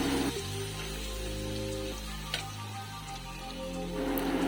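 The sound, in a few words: garlic frying in a pan with salt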